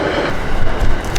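A train rolls past nearby, a loud rumbling rush with a rhythmic rattle of wagons, heard briefly and close.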